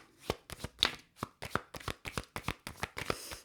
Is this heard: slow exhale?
no